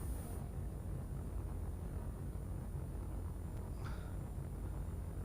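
NX starship takeoff sequence in Space Engineers, a steady low engine rumble with a soft hiss, even and unbroken, fairly quiet and without voices.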